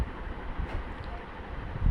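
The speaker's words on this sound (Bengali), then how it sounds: "তো এখন ট্রেনটি হার্ডিং ব্রিজের ভেতরে ঢুকে গেছে।" The Darshana passenger train from Rajshahi rolls across the old Hardinge Bridge, giving a steady, loud rumble with wind buffeting the microphone and no voices.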